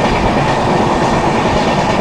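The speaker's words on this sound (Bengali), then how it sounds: "আমাদের ট্রেন 18006 সম্বলেশ্বরী এক্সপ্রেস এখন পাঁশকুড়া জংশন ছেড়ে যাচ্ছে।" The 18006 Samaleswari Express pulls out of Panskura Junction, a steady loud rumble of rolling wheels and carriages heard from on board with a continuous clatter.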